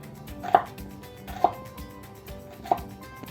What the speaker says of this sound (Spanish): la voy a cortar muy pequeñito para que no se note